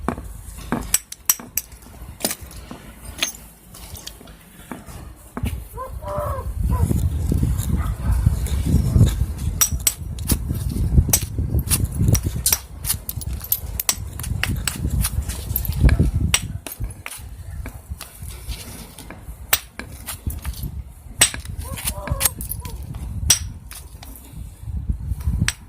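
Stone flake thinning with a Blackwater Draw style billet, producing a long run of sharp, irregular clicking strikes and scraping chips at close range, with occasional soft handling noise and no talking.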